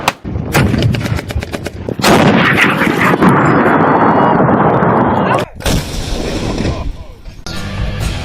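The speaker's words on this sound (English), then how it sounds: "Then we have cannons." Heavy cannon fire in the video game Cross Out booms in rapid, repeated volleys, loud and close, with a brief lull before more shots, under occasional speech.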